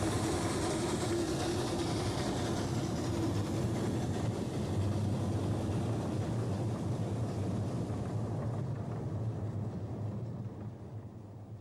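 A miniature 10¼ inch gauge railway locomotive running on an island line in the Western Isles, heard as a steady broadband rumble and rolling noise that holds even throughout and fades slightly near the end, with no voices.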